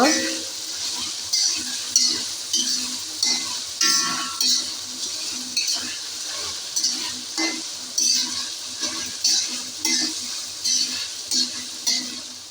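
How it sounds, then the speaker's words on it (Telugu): Green chili paste stirred into a sizzling pan for Rayalaseema uggani, steady frying hiss broken by regular scraping strokes of a spoon against the pan, close and fairly loud, with no talk. "పచ్చిమిర్చి పేస్ట్ను వేసుకొని బాగా కలుపుకోవాలి"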